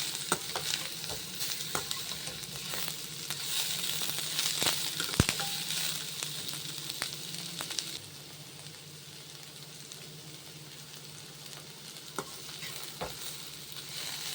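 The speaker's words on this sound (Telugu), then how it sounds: "కొంచెం ఆయిల్లో టాస్ చేసుకొని ఒక 2 మినిట్స్ ఫ్రై అయితే సరిపోతుంది." Vegetables tossed in oil in a pan over high heat for egg Schezwan noodles, a steady close sizzle with stirring scrapes and occasional sharp clinks, quieter in the second half.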